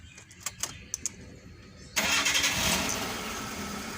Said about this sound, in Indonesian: Sekarang kita hidupkan mesinnya